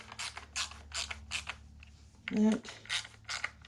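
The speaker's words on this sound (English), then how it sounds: "let me get the ratchet. And what we're going to do, we're just going to run them into snug" Hand ratchet snugging bolts on a 2008 Sportster 883C motorcycle, quick rhythmic clicking strokes close by, repeated in bursts with a brief pause, at fairly low level with a short spoken word.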